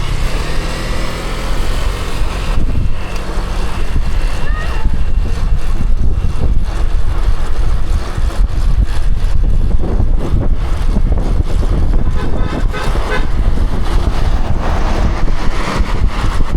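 A motorcycle engine drones continuously under heavy wind buffeting, loud and rough throughout, with no voices.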